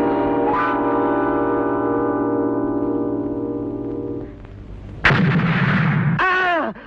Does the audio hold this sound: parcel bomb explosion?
yes